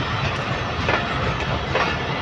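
A Pakistan Railways passenger train passes on the tracks, a continuous near rumble with rhythmic wheel clatter over the rails, heard alone without talk.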